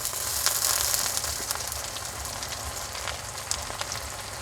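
Green chili and onion frying in oil with garlic and ginger paste, cooked for a pangas fish curry; a steady, close, crackling sizzle runs through without pause and with no talking.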